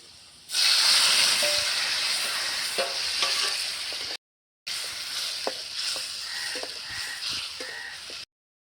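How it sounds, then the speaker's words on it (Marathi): Ground masala paste with garlic sizzling in hot oil, a loud steady frying hiss with occasional scrapes of stirring, briefly cut out midway, no voices. "तर मसाला आपण आता चांगला परतून घेतलेला आहे"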